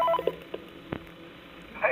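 Phone call beeps from the horror video game Five Nights at Freddy's 3, a few short, faint tones scattered across a quiet background with one sharper click near the middle and a brighter burst at the end, with no talking.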